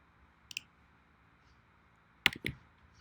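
A few crisp keyboard clicks and key presses on a computer keyboard, quiet and close, in two short clusters with silence between them.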